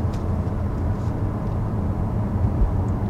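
Cabin of a 2020 Volvo S90 R-Design at highway speed, filled with a steady low road and wind rumble that stays even throughout, with no talking.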